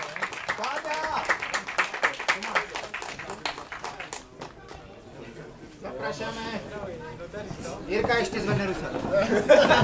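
An audience at a cycling race presentation in České Velenice claps for the Elkov Outdoor Cycling team from the Czech Republic, scattered applause and crowd chatter mixed under a loud announcer's voice throughout.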